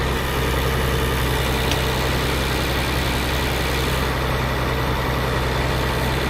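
A slightly newer farm tractor hauling firewood out of a forest, its diesel engine running steadily and loudly with a constant low drone throughout, no talking.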